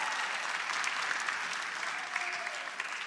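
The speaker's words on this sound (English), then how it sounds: "Let's give them a round of applause" Audience applauding at an 8th grade recognition ceremony, a dense, steady round of clapping from a large crowd throughout, with no voices over it.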